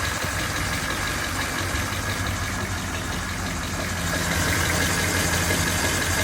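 A 1935 Pontiac straight-eight engine idles steadily in a sport coupe, a continuous low rumble with a faint knocking texture and broad mechanical hiss, loud and close throughout with no talk.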